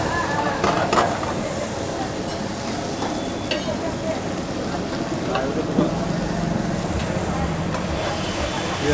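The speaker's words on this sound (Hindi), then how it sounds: "ये हमारा चौक मसाला प्याज टमाटर का" Onion-tomato masala sizzling and being stirred in a pan at a Delhi unlimited thali eatery, a steady close frying hiss with scraping strokes and busy room noise behind.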